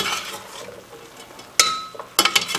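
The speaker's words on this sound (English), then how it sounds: "So let's go ahead and mix this all up." Shrimp fettuccine in roasted red pepper sauce being stirred in a pan, soft scraping and sloshing followed by a couple of sharp utensil clinks against the cookware.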